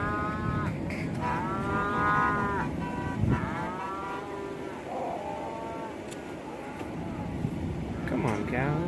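Cattle moo repeatedly in long, drawn-out calls, several overlapping at close range, while a herd is being moved for pregnancy checking. Low rumbling vehicle noise runs underneath, and a person speaks briefly.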